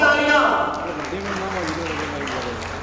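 Applause breaks out at a school award ceremony honouring top Class 12 results, a burst of clapping from an assembled crowd that fades under an announcer's voice and background talk.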